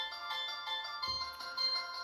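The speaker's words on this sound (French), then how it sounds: "C'est quel genre de sonnerie sur mon téléphone comme ça?" A mobile phone ringtone plays as a steady, bright, repeating melodic tone throughout, with nobody talking over it.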